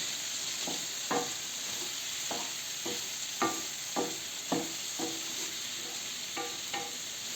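Boiled beans are stirred into vegetables in a pan, a faint continuous sizzle under a series of rhythmic spoon scrapes and taps, with a high steady hiss in the background.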